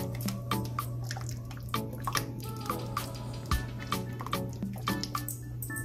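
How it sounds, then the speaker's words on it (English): Sauce for loaded chicken and seafood fries coming to a boil in a pot, giving a steady run of irregular bubbling pops and drips over a low constant hum, moderately close and without talk. "That's came to a boil."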